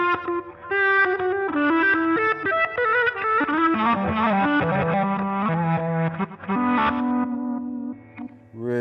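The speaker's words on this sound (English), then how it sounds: "One thing that I absolutely love is" Electric guitar run through an EarthQuaker Devices reverse effect pedal, with swelling backward-sounding notes, chorus-like shimmer and echo blending into a dense, distorted wash of melodic tones, played alone without talking.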